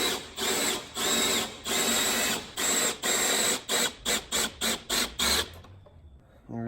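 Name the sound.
drill drilling out a part on a Mazda RX7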